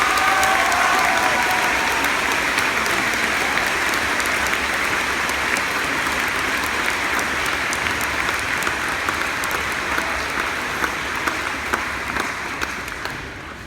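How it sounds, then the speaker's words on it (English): A school audience at a senior farewell gives the teaching staff a long, sustained round of applause, dense, even clapping from many hands that fades slightly at the end, with no talking over it. "Let's give them a round of applause."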